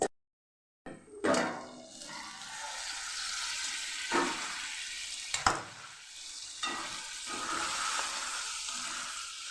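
Okra and tomato curry (bhinda nu shak) cooking in a pan with the lid on, giving a steady soft sizzle with a few sharper clinks and stirring knocks; the start is briefly silent.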